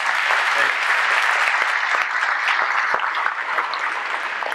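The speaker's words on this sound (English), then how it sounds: "Another round of applause for this guy." Dense, sustained applause from a conference keynote audience fills the whole stretch at steady loudness, a broad wash of many hands clapping together with no talk over it.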